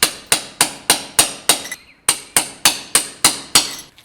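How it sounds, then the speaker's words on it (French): A concrete sill being chipped to knock off protruding excess concrete: eleven sharp hammer blows land at a steady, even rhythm, close and loud, with one brief pause midway. "on va piquer tous les éléments qui sont en saillie pour avoir une finition bien nette, bien propre."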